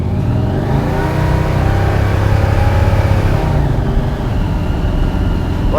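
Loud, close engine of an 850hp supercharged big block 1966 Chevelle SS pro-street car revving hard under acceleration, a dense continuous roar with no talking.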